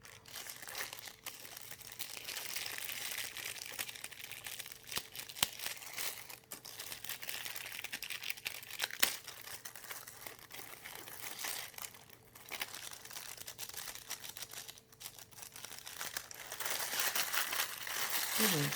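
Gold tissue paper, tied with lace around a gift, crinkles and rustles continuously as hands handle and unwrap it, with close, dense crackling throughout.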